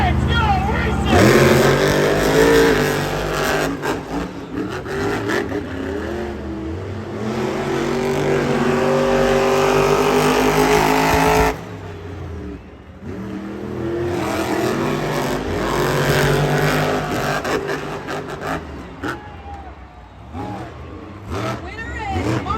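Monster trucks race side by side at a Monster Jam stadium show in Edmonton, engines roaring and revving loudly with a brief break in the middle, under crowd noise and an announcer talking.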